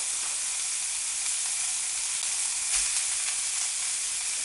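Beef mince browns in a frying pan with a steady, even hiss of sizzling fat that carries on without a break and stays fairly quiet.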